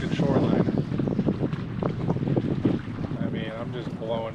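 Gusty wind buffets the microphone on a canoe trip across a lake, rough and loud throughout, with someone talking over it and water sloshing faintly.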